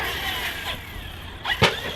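Team Magic Seth RC car fitted with a Rocket 4092 1650kv motor running at full speed, a whining motor tone that rises and sweeps past, with a sharp burst near the end under outdoor background noise.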